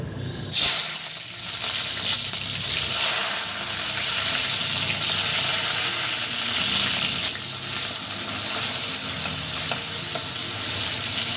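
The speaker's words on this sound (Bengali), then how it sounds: "কড়াইয়ে তেল গরম হয়ে গেছে আমি বেরেস্তাটা এবার ভেজে নেবো" Chopped onions frying in hot oil in a wok to make crisp birista for biryani: a loud, close sizzle starts suddenly as they go in, then settles into a steady, bubbling hiss with faint stirring scrapes.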